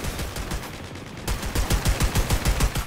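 An automated turret in the first-person shooter Leap fires a rapid burst of gunshots, loud and close. After a short pause, a second, heavier string of evenly spaced shots rattles out. No one speaks.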